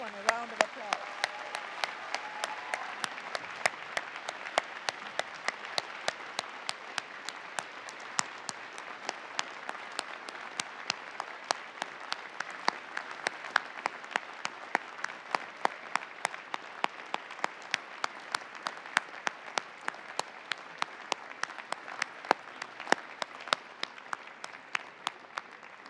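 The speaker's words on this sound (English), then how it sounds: "give a huge round of applause to the people who supported you throughout it all" A large graduation convocation audience rises and applauds for a long stretch, sustained dense clapping with sharp individual claps standing out near the microphone and a voice briefly over the start.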